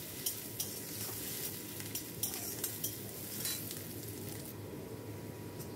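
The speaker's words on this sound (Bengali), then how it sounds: "পেঁয়াজটা একটুখানি হালকা লাল করে ভেজে নিচ্ছি" Onions frying in hot oil in a pan for a breakfast or school tiffin snack, a steady close sizzle with occasional stirring clinks and scrapes throughout, no voices.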